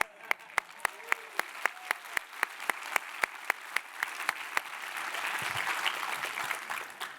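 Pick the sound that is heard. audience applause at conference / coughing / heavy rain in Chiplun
audience applause at conference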